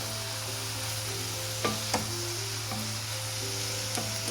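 Palak soya chunks curry being stirred in a pan, with a steady sizzle under a low hum and a few sharp scrapes and clinks of the spoon against the pan.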